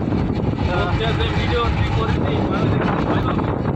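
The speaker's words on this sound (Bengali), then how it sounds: "ট্রলারটা কি পরিমাণে রোলিং হচ্ছে" A fishing trawler rolling in rough water on the Poshur river gives a steady engine drone mixed with rushing wind and water noise, close and loud, with voices underneath.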